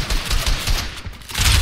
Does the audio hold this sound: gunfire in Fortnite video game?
yes